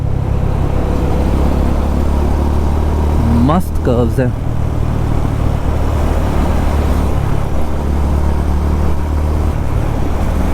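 A Honda CB350 RS motorcycle cruises in fourth gear with a steady, loud low engine drone and constant wind rush, one brief rising tone passing midway, while a rider talks over it throughout.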